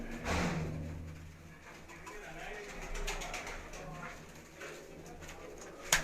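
Soft Sialkoti pigeon cooing close by on a rooftop in Sialkot, low and murmuring, with a faint voice and a few light knocks in the background.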